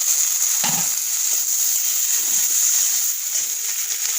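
Tomatoes hit a spiced masala frying in oil with a brief wet splash, and a steady close sizzle then continues throughout without speech.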